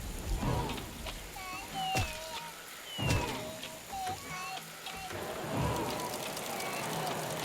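Rain patters steadily in the strategy video game Babel Rising, with soft splashes and scattered game effects, including short whistles and thuds, over a mostly continuous wet hiss.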